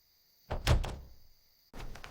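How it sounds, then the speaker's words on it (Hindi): Late at night, heavy knocks thud against a door, a close cluster of blows followed by a pause and then another burst of knocking. "फिर एक रात देर से दरवाजे पर दस्तक हुई।"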